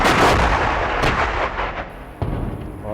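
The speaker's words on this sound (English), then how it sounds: "Now they're shooting at us. Artillery." Artillery guns fire in a battle at Stalingrad, with heavy booming blasts and rumbling reports. Several loud shots land close, including sharp reports near the one-second mark and just past two seconds, over a continuous roar.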